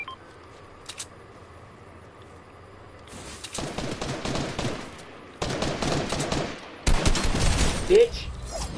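Gunfire in a shooter video game, with dense broadband bursts of shots in several clusters growing louder toward the end, after a quieter stretch with only scattered pops.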